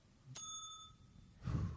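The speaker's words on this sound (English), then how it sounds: "Every time that I ding this bell" A single sharp ding of a bicycle-style bell, close and bright with a ringing tail that fades over about a second, followed by a low rustle or bump.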